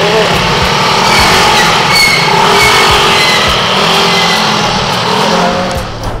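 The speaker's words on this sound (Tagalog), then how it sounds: "grabe pa rin ang traffic dito sa Bulacan" Dense road traffic in Bulacan, steady car and engine noise rolling past throughout, fairly loud and continuous with a broad wash and low rumble, easing slightly at the end.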